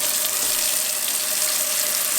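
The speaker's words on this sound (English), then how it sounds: "Then let's fill the rest with water." Water streams steadily from a tap into a spray bottle, making a continuous hissing splash.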